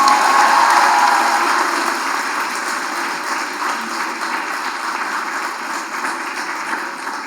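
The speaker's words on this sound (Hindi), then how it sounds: "पीछे से तालियां बज रही थी वो इतनी ज़्यादा है" Sustained applause from a large crowd, dense clapping that swells at the start and then holds steady throughout without any speech.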